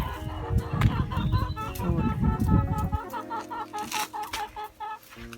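Hens cluck repeatedly close by, a busy chorus of short clucks and squawks with some rustling, loud at first then thinning out.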